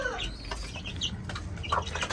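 Pigeons and chickens flap their wings in short bursts while grain is scattered for them, with soft clucking and rustling heard up close through steady background noise.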